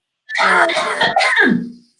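One close, harsh cough and throat clear in two quick bursts, then silence.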